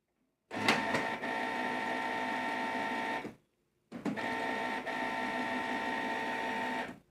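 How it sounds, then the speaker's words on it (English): A Canon PIXMA G3012 inkjet printer starting up after its power button is pressed, giving two steady mechanical whirring runs of about three seconds each, split by a brief pause, close and fairly loud with no talking. "See, now printer is on."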